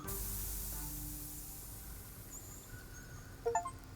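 Steady steam hiss from a machine in the video game Tin Hearts, a broad airy rush that holds level, then tapers and thins toward the end, where a few short bright clicks and chirps break in.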